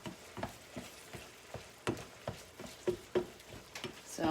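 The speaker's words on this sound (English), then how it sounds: "So I'm chopping up this hamburger, this greasy ground beef." Greasy ground beef chopped and fried in a pan, a quiet steady sizzle broken by irregular sharp taps and scrapes of a utensil against the pan, close and alone.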